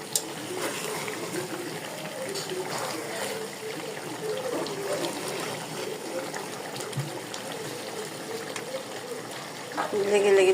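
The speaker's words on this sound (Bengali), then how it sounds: "একটু পানি দিয়ে দিলাম" A little water poured into a pan of meat cooking in mustard oil and spices, a gentle trickle and sputtering bubble at close range, with a voice speaking over it.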